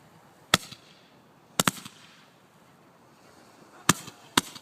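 Four sharp firework bursts crack out at uneven intervals, two of them close together as a quick double pop, loud and near against a quiet background.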